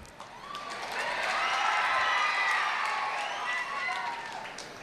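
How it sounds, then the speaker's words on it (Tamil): Audience at a motivational speech breaks into a swell of applause and clapping that rises and fades over several seconds, with a murmur of crowd noise and some talk mixed in. "பாராட்டி கைதட்டுறாங்களா,"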